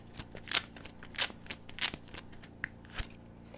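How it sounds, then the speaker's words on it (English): Oracle cards shuffled by hand in a reading, a soft series of quick papery riffles and flicks, fairly close and quiet, with no talking. "let's get one more oracle card"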